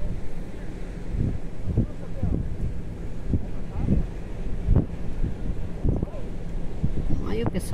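Strong wind buffets a microphone on the beachfront at Tramandaí, a steady roaring rumble running throughout, with surf underneath and someone talking over it.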